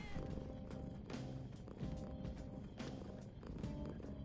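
A video game easter egg plays a cat's purring through the game controller's own speaker: a quiet, continuous low rumble with steady tonal sounds layered over it.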